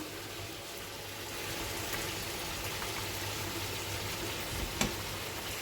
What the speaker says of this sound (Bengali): এখন আমি এই মুহূর্তে আমার ভেজে রাখা মাছগুলো দিয়ে দেব কারণ একটু ফুটতে হবে আর এই দিকে তেলটা রান্না হচ্ছে মাছের